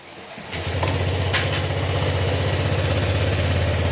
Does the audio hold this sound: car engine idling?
yes